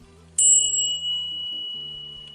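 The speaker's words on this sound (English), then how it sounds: "Retain the sound of the bell." A single bell is struck once, giving a bright, clear ding that rings out and slowly fades with a sustained, steady tone, heard alone.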